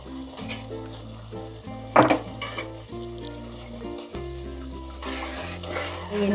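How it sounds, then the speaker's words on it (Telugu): Fried cashews and raisins being stirred into jaggery rice payasam, a Navratri prasadam, with steady sizzling and spoon scrapes against the pot, one sharp clatter partway through, over a low background hum. "చివరిగా నేను వేయించి పెట్టుకున్న జీడిపప్పు కిస్మిస్లు వేసుకొని కలుపుకుంటున్నాను"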